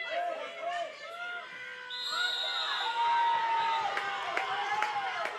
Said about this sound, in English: You can hear the crowd there.